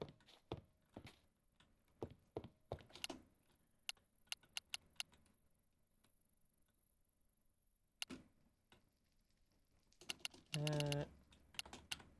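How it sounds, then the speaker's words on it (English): Bursts of computer keyboard typing, close and clicky, in uneven clusters with pauses, alone in a quiet room, ending with a short louder buzzing tone. "I can't talk while typing."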